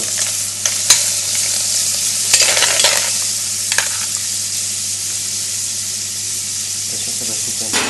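A pan of pork and clams is deglazed with alcohol. It gives a steady, loud sizzle and hiss, broken by a few sharp stirring clatters, all close and continuous.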